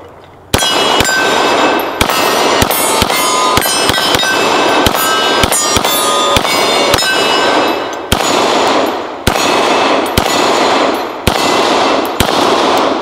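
Rapid rounds strike a steel gong target, each hit a sharp metallic clang ringing out, fired in quick bursts with short pauses between strings, loud and close, no voices.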